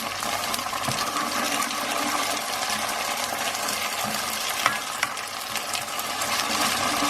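Ginger garlic paste frying with caramelized onions for an Indian boneless chicken curry, a steady close sizzle with a couple of brief clicks from stirring.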